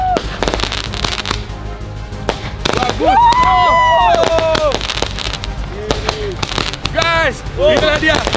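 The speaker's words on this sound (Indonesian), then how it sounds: "Itulah dia, kembang api murah meriah tapi mewah." Homemade jumbo fireworks burst and crackle close by in a rapid irregular series of sharp pops and whistling trails, with excited voices shouting and talking in between.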